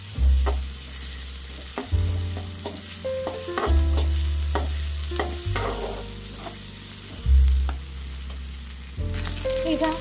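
Ginger garlic paste and ground tomato fry in a pan as a spoon stirs them repeatedly, with low scraping sweeps recurring about every two seconds over a constant close sizzle.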